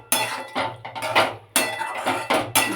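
Chicken pieces are stir-fried and pressed in a pan, making a run of close, loud scraping and knocking strokes in uneven bursts, with a spoon or spatula clattering against the metal.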